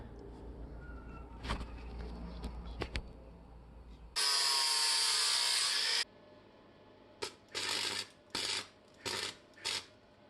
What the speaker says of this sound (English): I think now I'm going to grind this down and close the little holes that are left